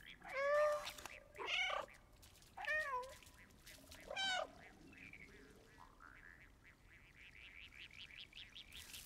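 A cat in the video game Stray gives four clear, close meows in quick succession, each a rising then falling cry. Softer, drawn-out mewing follows over quiet background sound.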